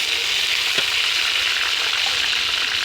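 Tomatoes and chillies sizzle in a pan of golden fried onions, a dense, steady close hiss with one small knock, no talking.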